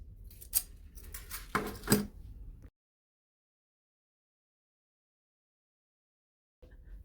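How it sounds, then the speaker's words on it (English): Metallic snipping and clinking sounds, a few sharp clicks close by, then a long silence before a faint noise returns at the end. "And a sharp pair of scissors, and that is it."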